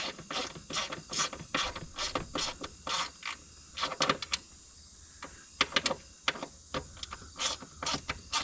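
A wrench ratchets a bolt in quick, uneven bursts of clicking, close and fairly quiet, with short pauses between strokes and no talking.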